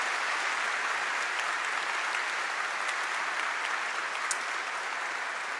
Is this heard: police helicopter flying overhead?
no